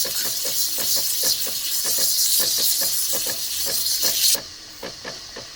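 An opal is pressed against a spinning cutting disc, giving a steady, close grinding hiss with faint rhythmic ticking that runs for about four seconds, then cuts off abruptly and leaves quieter room sound.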